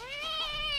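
A single drawn-out cat meow, close and fairly loud, rising slightly in pitch and holding steady for under a second, with no other sounds.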